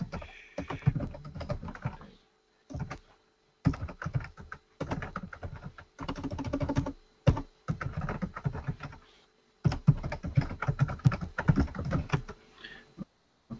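Bursts of rapid clicking on a computer keyboard as a password is typed, several quick runs of keystrokes separated by short pauses, close and fairly quiet.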